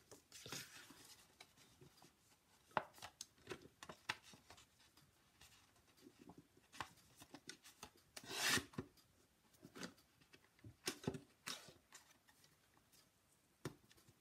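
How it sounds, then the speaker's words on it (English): A paper trimmer cutting the flap off sheets of designer paper for an embossed greeting card. Quiet, close rasping slides and soft scratches come in irregular bursts, with one louder scraping stroke near the middle. "So I'm going to start out by cutting off the flap, then cutting the sides"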